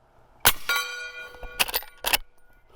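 Sharp metallic clangs ring out as subsonic bullets from a .45-70 Henry X lever-action rifle strike a steel target, three or four hits with bright ringing tones that decay between impacts.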